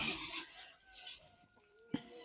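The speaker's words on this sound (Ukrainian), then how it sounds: "От порода курей гарна, хороша така." A few chickens clucking close by, short soft calls with one sharper squawk near the end.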